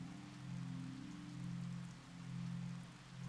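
Rain falls steadily in the 2004 Windows game Seal of Evil, a soft even hiss with a low hum underneath that swells and eases gently, faint and without voices.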